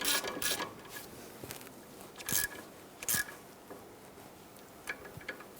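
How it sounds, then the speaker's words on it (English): Hand ratchet snugging down a starter bolt on a 1999-2004 Jeep Grand Cherokee, heard as quiet, irregular bursts of clicking pawl sounds with short pauses between them. "Now we're just going to snug this down with our hand ratchet."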